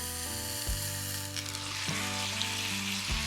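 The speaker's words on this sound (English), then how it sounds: "I'm gonna get my burgers on my grill" Burgers sizzle on a grill turned up to 350, giving a steady, close frying hiss with a few scrapes and clicks and no talk.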